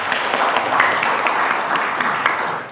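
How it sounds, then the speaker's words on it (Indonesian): An audience at a large regional gathering claps together in a steady, moderately loud wave of applause that holds evenly throughout. "Tepuk tangan boleh?"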